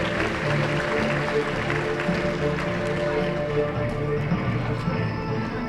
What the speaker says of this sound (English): Let's give all 5 of these another round of applause